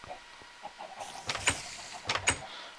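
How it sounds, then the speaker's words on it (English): Chickens in a video game cluck and squawk in several bursts, moderately loud, with a pair of sharper calls toward the end. "It looks like somebody let out all my chickens."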